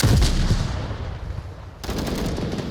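Gunfire from an MK17 rifle in the virtual reality shooter Onward VR, with a loud burst of shots at the start and continued crackling gunfire and noisy background through the rest, no speech.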